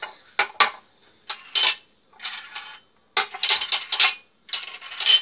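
A baking dish for oven chicken is lifted and handled, giving a run of bright metallic clinks and rattles in short bursts separated by brief silences, close and fairly loud.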